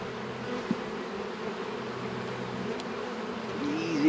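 A honey bee colony opened for a late-March hive inspection gives a steady low buzz of many bees, close and continuous, with no talking.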